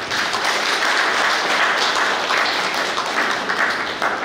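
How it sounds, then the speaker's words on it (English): A crowd at a Capuchin gathering in Goa applauds a priest, giving a steady, dense round of clapping that holds evenly throughout. "Give a loud clap to Father."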